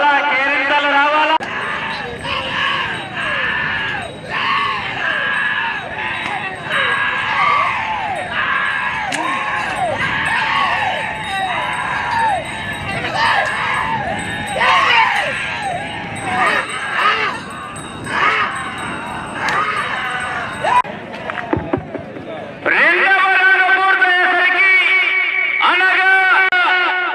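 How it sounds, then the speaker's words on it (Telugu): A crowd at a bull race in Kadapa shouts, yells and cheers in rising and falling waves, loud and close. A commentator's voice runs over the noise, ending in a burst of louder cheering. "కేకలు రావాలా, కేరింతలు రావాలా?"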